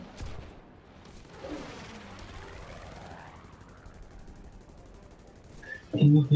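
Gunfire in a video game as enemies shoot at bases: a steady wash of distant rattling shots and rumble, ending in a louder close burst.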